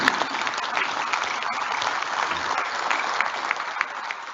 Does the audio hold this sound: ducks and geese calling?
no